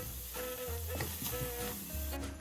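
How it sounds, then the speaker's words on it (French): Chopped onion sweats with dried oregano in a wok with a splash of water and no oil, giving a soft, continuous low sizzle with faint stirring scrapes throughout. "dans une poêle, donc là j'ai utilisé un wok, on va venir faire suer l'oignon avec un petit peu d'origan séché"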